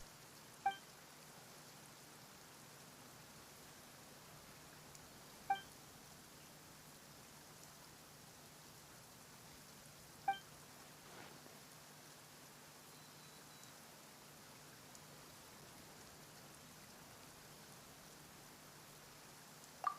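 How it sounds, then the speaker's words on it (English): Steady, faint rain hisses softly in a Genshin Impact game scene, a constant wash of sound broken only by a few sparse, sharp ticks spaced several seconds apart. "Why is it raining all of a sudden?"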